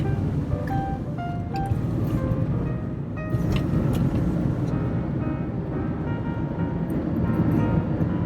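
Steady road rumble and tire noise fill the cabin of a car driving along Jeffrey Road, a six-lane street in Irvine, with a constant broadband hum and no pauses.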